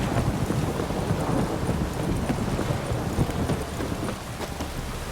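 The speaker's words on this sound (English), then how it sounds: "This downpour's a bastard," Heavy downpour in The Witcher 3, a steady dense wash of rain with gusting wind filling the scene, with faint hoof-like clopping underneath and no talk.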